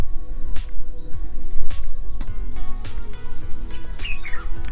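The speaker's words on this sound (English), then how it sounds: "Birds chirping." Birds chirping outside a luxury cottage bathroom in Nairobi, several sharp tweets and calls scattered over a steady busy background, fairly loud and close.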